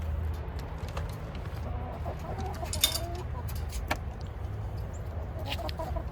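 Chickens cluck softly and intermittently nearby over a low, constant background rumble, with a few sharper squawks scattered throughout.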